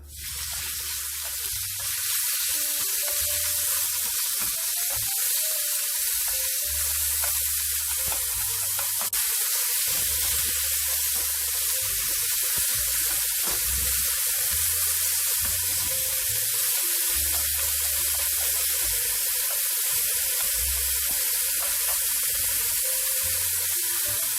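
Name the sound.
bacon frying in a pan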